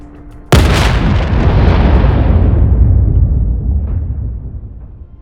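A starship explodes in a Star Trek role-playing game: one sudden loud blast erupts and then rolls on as a long, heavy, rumbling roar that slowly fades over several seconds.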